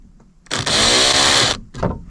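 A power drill set outside drill mode whirs in one steady, loud burst of about a second, then a brief second spurt, used inside a VW Transporter T5/T6 van to fit curtains.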